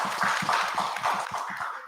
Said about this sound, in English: Let's start with a big round of applause